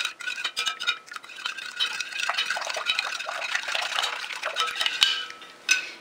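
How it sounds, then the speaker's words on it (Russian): A fork whisks an egg in a bowl with rapid, clinking strokes against the side, a continuous, close metallic tapping mixed with wet sloshing. "теперь я разболтаю яйцо"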